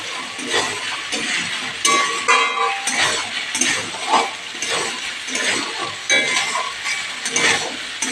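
Fried chickpeas, peas and boiled potato being stirred in a pan, with steady sizzling and repeated scraping and clinking of a spoon against the metal, close up and without talk.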